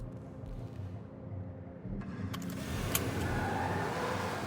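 A spawned car in the FiveM game at a police department parking lot, a low engine hum that grows louder and steadier partway through, with a short sharp click.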